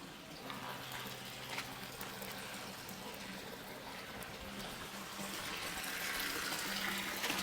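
Water runs through a single pipe into a seed-sowing setup planted with okra seeds, a steady, close, gentle gurgling flow that grows slightly louder toward the end.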